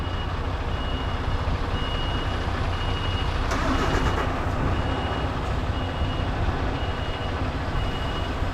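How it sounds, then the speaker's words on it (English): A truck reversing sends out a regular series of repeated high reversing beeps over a steady engine rumble and road noise, with a brief clatter partway through. "And slower you keep the truck as well, the more control you got over your reverse."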